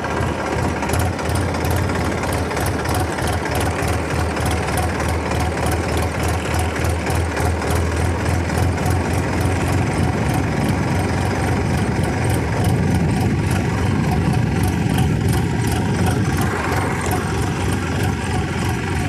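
A Massey Ferguson 7250 tractor engine runs steadily nearby, a loud, continuous diesel clatter with a rapid knocking rhythm and a low rumble throughout.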